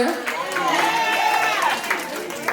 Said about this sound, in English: Clap it up one more time for this amazing poet, artist, and now curator.